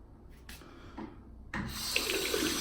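Water from a tap: faint clicks and shuffling, then the faucet opens and a steady close rush of running water wets a pair of hands.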